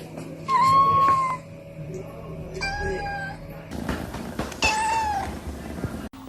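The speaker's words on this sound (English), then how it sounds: "reassures us that our cats aren't broken" Close meows from Ragdoll cats come in a few separate drawn-out calls, one longer and whiny, heard over a low household background with some rustling.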